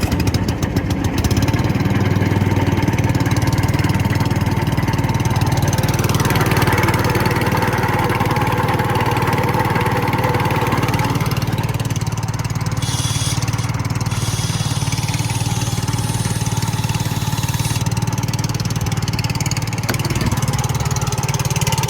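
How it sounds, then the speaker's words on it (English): An air compressor on a 2012 Ford F-550 service truck runs with a loud, steady, chugging engine drone that holds a constant pace for about twenty seconds, with a few clanks on top. "Fire this compressor up here."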